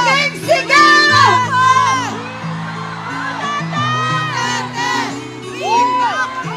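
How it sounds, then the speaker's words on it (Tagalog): A crowd at a Duterte rally in Davao shouts and cheers, loud overlapping whoops and yells rising and falling over several seconds, with some high children's voices mixed in. "Isang malaking sigaw!"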